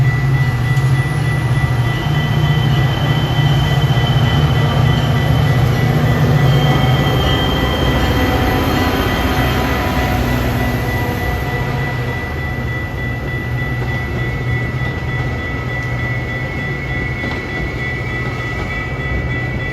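A Metra Union Pacific West Line commuter train bound for Fox Lake rolls past in Chicago, a steady loud rumble of rail cars with a low engine drone and faint high squeal that eases slightly over time, no voices.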